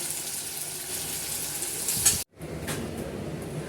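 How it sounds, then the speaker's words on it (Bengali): Spices for tempering sizzle in hot oil in a home kitchen, a loud continuous frying hiss with a sharp burst as they hit the pan, a short gap, then the steady crackle resuming. "তেল গরম হয়ে গেছে এবার দিয়ে দেবো ফোড়নটা"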